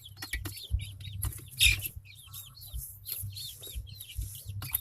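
Hens and young chickens of red, white and blue varieties cluck and chirp in a busy backyard flock, with repeated soft clucks and peeping calls over a low rumbling background, no talking.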